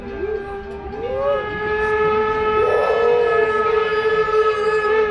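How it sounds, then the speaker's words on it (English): A train horn on an Old Car Festival train ride sounds long and loud, a sustained chord that swells and holds steadily over the rumble of the moving train. "Indigo loved the train horn."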